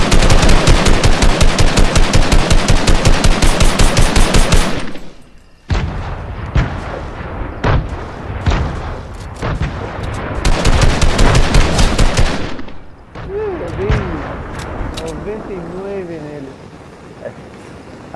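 Rapid Fortnite gunfire in long sustained bursts, loud and close, followed by scattered single shots and explosions while excited voices talk over it.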